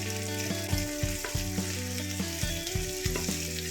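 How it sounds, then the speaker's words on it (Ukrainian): Onions fry in a pan of oil with a loud, steady sizzle, broken by spatula knocks and stirring clatter. A low hum runs underneath and no one speaks. "зажарити цибулю"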